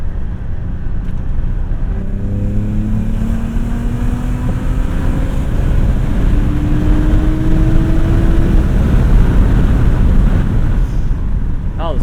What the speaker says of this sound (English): So we get some nice exhaust noise in here.